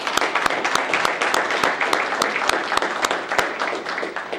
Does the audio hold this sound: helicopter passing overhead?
no